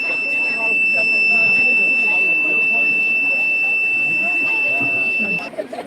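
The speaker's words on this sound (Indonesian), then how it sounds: "ada basic berfungsi sebagai alarm atau bunyi apabila ketinggian air sudah mencapai batas" A water level alarm buzzer gives a steady high-pitched electronic tone, loud and unbroken for several seconds over background noise, then cuts off near the end.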